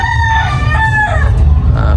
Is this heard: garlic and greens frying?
no